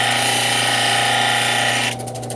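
Coarse grit deburring the bottom edge of a soft cabochon stone, a steady loud grinding whir with a constant motor hum that shifts to a pulsing, stuttering scrape near the end.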